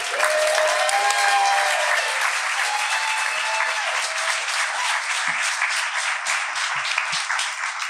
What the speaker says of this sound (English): Let's give Roger another big round of applause